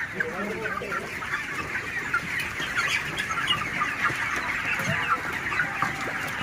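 A large flock of broiler chickens clucks and murmurs continuously inside a poultry farm, a dense, steady chorus of overlapping calls close around, with occasional louder squawks.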